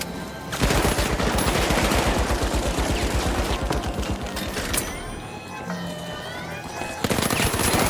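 Rapid turret gunfire in a video game, a fast regular stream of loud shots running for several seconds, then breaking into scattered sounds and a final sharp blast, with faint talk underneath.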